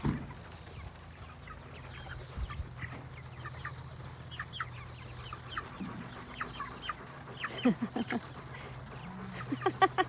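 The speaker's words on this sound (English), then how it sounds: "I love watching chickens run." Chickens clucking in short, scattered bursts in the rain over a low steady background hum, growing busier toward the end.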